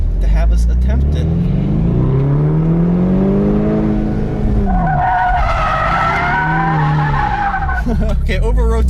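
Ford Mustang EcoBoost sliding through a drift on a small course with its rear wheels locked by the drift brake, tires skidding and squealing in long wavering tones over engine noise, with a voice talking over it.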